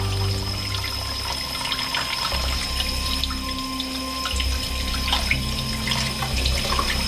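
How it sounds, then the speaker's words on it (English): Tap water runs steadily into a sink while tabletop fountain parts are gently scrubbed with a brush, a continuous close splashing stream with occasional scrapes. "So I'm just using tap water."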